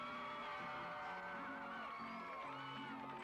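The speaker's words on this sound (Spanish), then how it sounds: "Vamos a ver el aplauso para el primer participante," An audience gathered in the town centre of Somoto whoops and cheers for the first contestant at a public contest, a sustained, dense roar of yelling voices heard from within the crowd.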